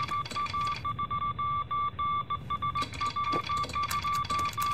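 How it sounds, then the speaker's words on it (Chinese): Telephone call signal tones in a wartime office drama: pulsed electronic beeps repeating in short, regular bursts, clear and fairly loud with no voices over them. "张科长，特遣队来电。"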